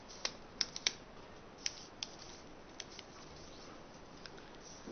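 Square sheet of paper folded in half edge to edge for an origami crane, soft crisp crinkles and taps, a few sharper clicks early on, faint and close in a quiet room.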